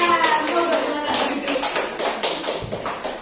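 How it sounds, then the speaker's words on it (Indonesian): A group of adults, including mothers, claps hands together in an Indonesian classroom or training setting, dense overlapping claps at a fairly loud level, with voices in the background. "Kita beri tepuk tangan."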